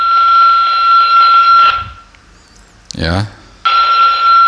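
A steady electronic tone from a Dalcom DL-9000 waterproof VHF radio receiving a seismograph signal, loud and continuous, cutting out for a moment while someone speaks briefly, then returning.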